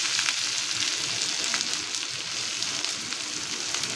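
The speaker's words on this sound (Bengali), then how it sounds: "তো এখানে আমার তেলটা গরম হয়ে গেছে মাংসের, দিয়ে দেব পেঁয়াজ কুচি।" Chopped onion sizzles and fries in hot oil left from cooking meat, a steady dense crackle that holds evenly throughout, close and without talk.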